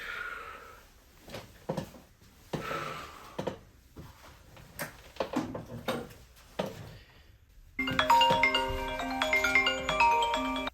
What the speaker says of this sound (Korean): 갑자기 전화 한 통이 울린다.